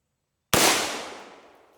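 A single suppressed shot from a B&T APC rifle, the last round of the string, cracks sharply out of silence and trails off in a fading echo over about a second and a half.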